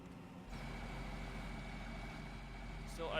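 A truck engine idles steadily in Farming Simulator, a continuous low rumble that starts abruptly and holds level at moderate volume, with a brief higher hiss near the end.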